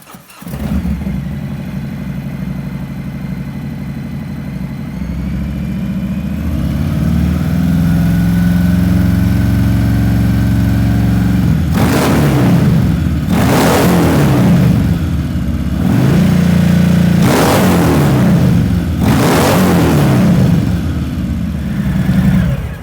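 A Harley-Davidson Milwaukee-Eight Softail Fat Bob engine with a Vance & Hines Hi-Output aftermarket muffler idles with a deep, throaty rumble, then revs up sharply several times in loud bursts, the exhaust note rough and booming.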